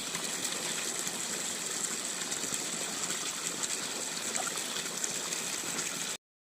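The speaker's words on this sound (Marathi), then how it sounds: "मोटर चालू आहे त्याच्याखाली पाटी लावली आहे गोर पाणी लावून घेते आता" An electric water pump motor runs in a farm field, its steady hum under continuous rushing water flowing out for irrigation, constant throughout before cutting off abruptly.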